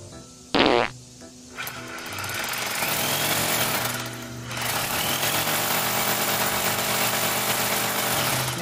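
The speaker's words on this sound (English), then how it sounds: "It's light pressure on this is called a rotor hammer, which is basically a large hammer drill." A large rotary hammer drill bores into stone with light pressure, its rapid hammering chatter running loud and steady after a brief start and pause.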